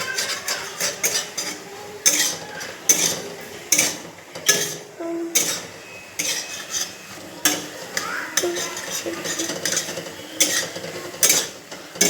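Pasta being stirred in a pan with a utensil, repeated scraping and clinking strokes in an irregular rhythm, close and fairly clear with no talk.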